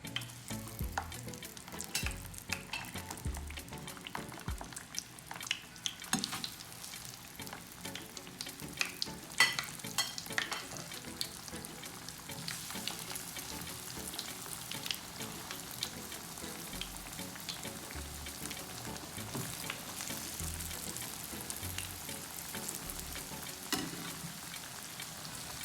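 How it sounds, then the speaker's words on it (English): Bammy, a cassava flatbread, fries in hot oil with a continuous crackling sizzle that holds steady for a long stretch with no voices. "it's time now for me to put in our Bammy into the oil"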